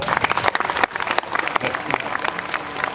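An audience applauds Bishop Sikuli Paluku Melchisédech with dense, continuous clapping that swells and dips slightly, close and lively throughout.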